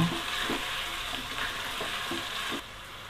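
Papaya and carrot pieces frying in a pan for a wedding-style mixed vegetable dish, with a steady broadband sizzle and a series of regular scraping stirs about every half second, dropping slightly quieter near the end.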